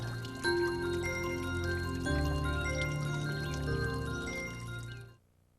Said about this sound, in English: sound of the water is so soothing